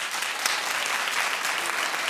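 Studio audience at a daytime talk show breaks into steady, dense applause, a broad wash of many hands clapping at once that holds evenly throughout.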